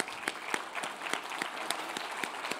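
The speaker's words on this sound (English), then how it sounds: "A big round of applause for Fiona." Applause at an awards gala honoring a past president, sparse and fairly quiet, with individual claps standing out from a light, steady patter.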